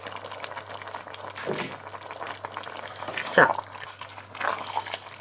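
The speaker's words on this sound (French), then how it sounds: "je mets du vinaigre blanc classique" Plain white vinegar is poured into a hot pan of cooking food for papet vaudois, with steady sizzling and a brief splashing swell, close and moderate.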